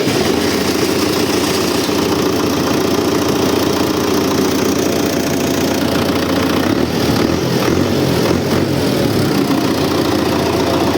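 A loud, steady tractor engine idles close by after a fuel pump repair, a constant low chugging rumble that runs the whole time without speeding up.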